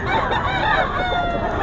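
A rooster crows loudly and close up at a poultry market where gamefowl stags are sold, one sustained call filling the moment.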